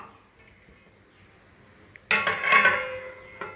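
A single clattering metal clank of a lid set onto a pan, with a brief ringing rattle that fades, then a small knock; otherwise quiet.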